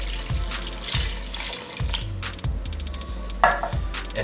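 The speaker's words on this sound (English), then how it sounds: "we're going to add 3 more cups of water" Water pours into a soup pot of French onion soup with irregular glugging splashes and a steady liquid rush. It sounds close and fairly loud, with no talking.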